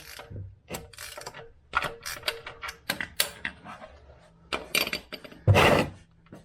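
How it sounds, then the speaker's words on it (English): Ratchet wrench breaking loose a 14 mm bolt on a Toyota Corolla, a run of sharp metallic clicks and clacks in irregular bursts, close and fairly loud, with one heavier clatter near the end and no talking. "So let's break this bolt loose. Should be a 14 millimeter."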